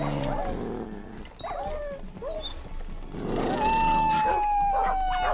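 Wolf pups in the video game Hypixel Skyblock yip, whimper and bark in quick scattered bursts, ending in a drawn-out howl, over game background noise.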